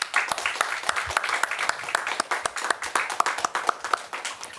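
A church congregation breaks into dense, steady applause, many hands clapping together at moderate loudness for several seconds.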